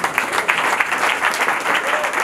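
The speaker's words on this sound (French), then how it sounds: "nous devrons nous applaudir" Audience applause at a Congolese teachers' union gathering, a dense, even wash of many hands clapping at once, loud and sustained with no voices standing out.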